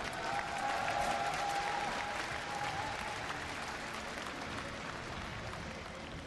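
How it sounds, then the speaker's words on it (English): A large crowd cheers and applauds steadily at an esports grand final, a broad continuous roar with no clear breaks, heard at a distance in an arena. "give a cheer for Acer's Nerchio"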